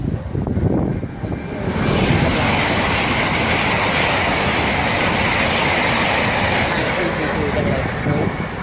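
A Heathrow Express service to Heathrow Terminals 1, 2, 3 and 5 passes through Southall on the Great Western Main Line, a loud sustained rushing roar building within a couple of seconds and holding steady, with faint wheel clatter and wind noise.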